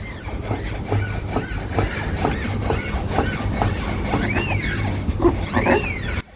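Mechanical grinding and rhythmic clicking from a rotating driver's-side car wheel hub with newly replaced hub bearing, repeated squealing sweeps toward the end, close and steady.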